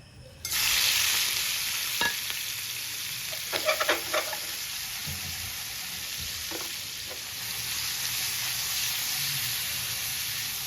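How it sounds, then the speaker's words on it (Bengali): Fish sizzle as they drop into hot mustard oil in a pan, a loud, steady frying hiss broken by a few clinks and stirring scrapes. No talking. "তেলটি গরম হয়ে যাওয়ার পর আমি মাছগুলো ঢেলে দেবো।"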